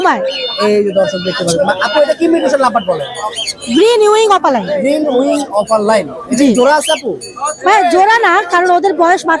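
Pet parrots and mynas at a busy bird market chatter, whistle and squawk almost nonstop, loud and close, with coos and sharp chirps overlapping in a dense, lively clamor.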